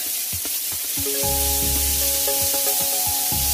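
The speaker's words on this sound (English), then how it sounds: "Toss them right on in there, give them a quick sear. Right in the bacon fat." Shrimp searing in hot bacon fat, a loud close sizzle hissing steadily throughout while faint tonal ringing and a few clinks sit beneath it.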